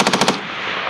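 A Marine Corps machine gun fires a short burst of about five rapid shots at a desert range at 29 Palms, loud and close, with the reports rolling off into a long fading echo.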